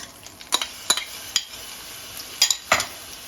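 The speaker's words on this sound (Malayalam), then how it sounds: "ഇനി ഇതിലേക്ക് നമുക്ക് ആ ചക്കപ്പഴം ഇട്ട് കൊടുക്കാം" Jackfruit pulp going into melted ghee in a pan and being stirred for Onam jackfruit payasam; a handful of sharp spoon-and-pan scrapes and light sizzles, close and clear, with no talk.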